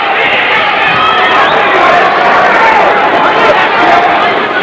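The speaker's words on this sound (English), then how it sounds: "the crowd that had been sitting on its hands just a moment ago with the opening bell has really come alive here" A boxing arena crowd roars and cheers during a heavyweight fight, a dense, loud, sustained wall of voices with scattered shouts and whoops rising throughout.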